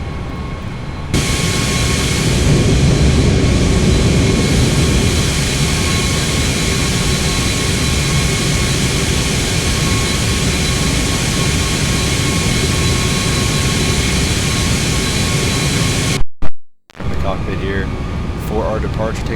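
Airbus A319 jet taking off from runway 36 at Quito, a loud steady engine roar building and holding from inside the aircraft, then cutting out briefly near the end.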